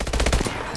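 Rapid automatic gunfire in the video game Call of Duty: Advanced Warfare, a quick burst of loud, evenly spaced shots lasting under a second, close and dense.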